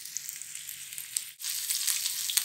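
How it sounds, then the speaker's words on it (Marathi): Steady, close sizzle of stuffed pomfret fish frying in a pan, a continuous hissing crackle with small pops that briefly dips then swells louder. "आता मी काय करते, ह्याला दोन्ही साईडने मस्त खरपूस असं तळून घेते."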